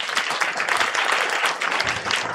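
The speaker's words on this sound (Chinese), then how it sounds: "我们拍手谢谢嘉诚长老的见证分享" A congregation claps together during a Father's Day church service, steady dense applause filling the short moment from start to finish.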